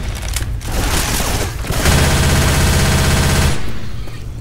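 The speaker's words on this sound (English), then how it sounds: "Going with the machine gun." Sustained machine gun fire in the Left 4 Dead 2 video game, a dense rapid burst running about two seconds amid other loud gunfire and shooting, with no talk over it.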